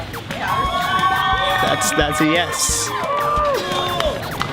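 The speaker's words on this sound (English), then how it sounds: "People are cheering." Orientation leaders cheering and whooping at a college move-in, a lively crowd of shouting voices close by with people talking over it throughout.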